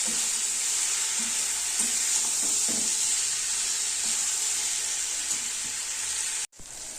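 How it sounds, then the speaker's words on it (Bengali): Boiled taro stolons frying with dried fish masala in a pan, a steady broad sizzle with occasional soft stirring scrapes and knocks, close by, ending in a brief cut near the end. "এই দিয়ে ভালো করে কচি লতি দিয়ে মশলাটাকে ভালো করে কষাতে হবে"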